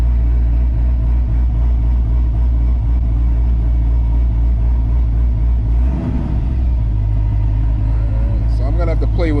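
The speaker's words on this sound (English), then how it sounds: "to activate the blip, you have to hit the brake, then the clutch" A C6 Corvette idles with a deep, steady rumble, then a brief auto-blip rev swells the engine note around the middle before it settles back to idle.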